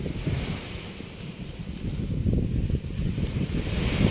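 Sea waves wash and churn close by at Pasulok Beach, Ragay, Camarines Sur, under heavy wind buffeting the microphone, a continuous rough rumble with no voices.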